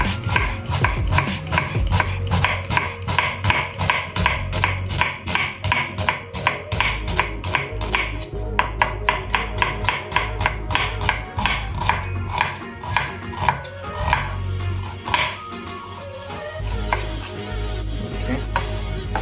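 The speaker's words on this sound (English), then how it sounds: "your onion half, just going to cut them into thin slices." Knife slicing half an onion into thin slices on a cutting board for beef stroganoff, a long run of quick, evenly spaced chopping taps, close and crisp, with a brief slower stretch near the end and no voices.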